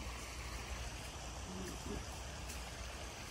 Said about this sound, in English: there's even water coming down right here